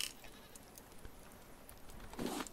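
A goat bleats in the survival video game Raft: one faint, short bleat near the end over a quiet, hissy background.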